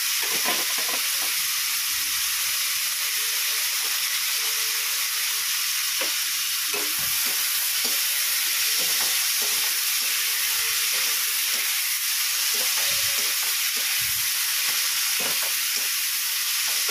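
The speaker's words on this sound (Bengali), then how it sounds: "এবার আমি পেঁয়াজটা দেবো" Onions fry in hot oil tempered with small cardamom and cinnamon while mutton curry is prepared, giving a steady loud sizzle with occasional stirring clatter and no talking.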